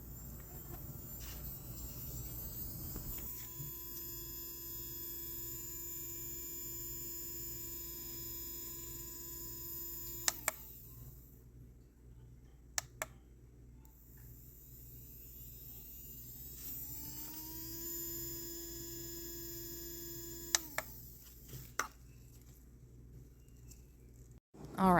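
A MelodySusie SM200F PLUS rechargeable 35000RPM nail drill whirs steadily alone, a soft high-pitched electric hum whose pitch shifts as the speed changes, with a few small clicks between settings.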